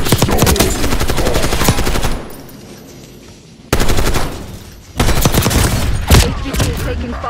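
Dense, loud automatic gunfire crackles in rapid bursts during a Call of Duty: Black Ops 6 match. It drops away briefly twice before resuming close and intense.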